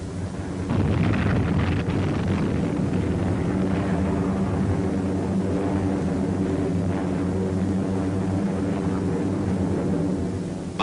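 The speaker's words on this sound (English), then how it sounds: "U.S. planes headed north to neutralize Rabaul." US military aircraft of the WWII Pacific war, bombers headed north toward Rabaul, give a continuous loud roar of piston engines with rumbling bursts, filling the whole stretch without talk.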